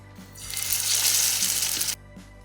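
Meatless cutlets hit a hot pan, and a close, bright sizzle rises and holds for about a second and a half before cutting off abruptly, with faint clicks before and after.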